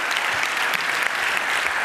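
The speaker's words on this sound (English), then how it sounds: "Give him a warm round of applause" Brief burst of warm audience applause at a talk on NSA spying, a dense, even patter of many hands clapping at steady loudness with no voices over it.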